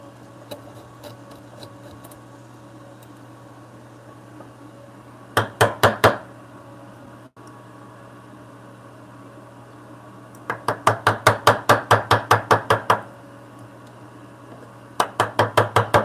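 A woodworking chisel cuts dovetails through knotty grain in a workshop, struck in quick rhythmic runs of sharp taps, with a short burst, a longer volley and a final flurry separated by quiet gaps over a steady low hum.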